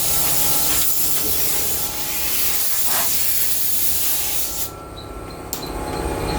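Dust is cleaned off the body of a 1938 SS Jaguar 3½ drophead during restoration before priming. A continuous close hiss and rubbing runs through the clip, with a few short breaks near the end.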